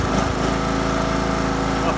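A homemade racing lawnmower engine in its highest gear drones loud and steady at high revs, a constant buzzing note with a short stutter near the start.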